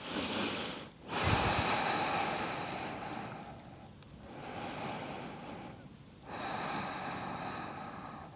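Slow, deep Pilates breathing comes through close-up as three long, airy breaths, each swelling and fading, with short quiet gaps between them.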